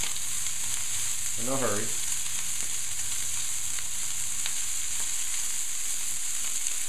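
Sausages fry in a pan while being mashed, a constant near sizzle heard throughout, with one brief spoken phrase over it.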